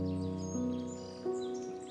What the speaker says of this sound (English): It's just birds.